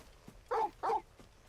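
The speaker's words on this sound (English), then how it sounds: "Bark, bark." Torgal, the wolf-dog in Final Fantasy XVI, gives two short, close barks in quick succession over a quiet background.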